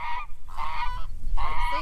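Geese on a farm homestead honk three times in loud, nasal bursts separated by short pauses, close by and with no voices over them.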